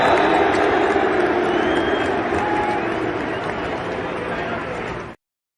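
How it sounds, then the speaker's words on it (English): Football stadium crowd booing at the end of a match, a dense, loud roar of many voices heard from a playback that holds steady for about five seconds before cutting off abruptly. "This was the actual booing at the end"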